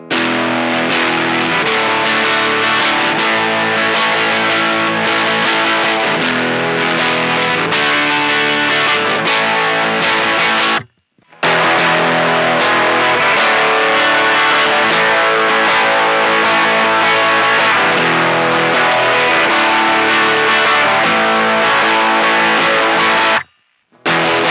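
Distorted electric guitar played through an Aria ADT-1 distortion pedal in a modded mode, then a stock Rat pedal, with two loud, dense sustained passages of chords and riffs, each broken by a brief silence.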